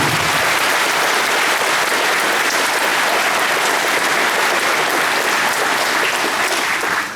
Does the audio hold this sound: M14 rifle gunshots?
no